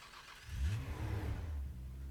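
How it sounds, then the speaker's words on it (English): Nissan Skyline R34 engine in Garry's Mod revving up loudly from a low idle, a rising and wavering tone that holds steady before dipping slightly near the end, close and alone without talk. "this sounds authentically like a Skyline"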